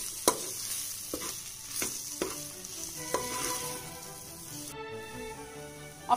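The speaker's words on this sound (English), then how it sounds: "You can then mix all these spices well with the onions." Spices and onions stirred together in a hot pan for a chicken do pyaza curry, a steady close sizzle broken by several sharp spoon scrapes and clinks against the metal.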